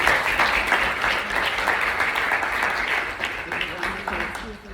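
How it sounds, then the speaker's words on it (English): An audience gives a big round of applause at a talk by a Holocaust survivor, sustained dense clapping from a roomful of people at steady loudness, with faint voices under it. "Everybody, please give a big round of applause."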